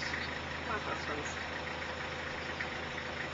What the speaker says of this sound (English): As the tractor comes up off the ground